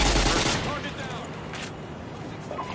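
Machine gun with a 100-round drum firing in Modern Warfare 2 team deathmatch, a loud, dense stream of rapid automatic shots with explosive booms mixed in, continuous across the whole stretch, with voices talking underneath.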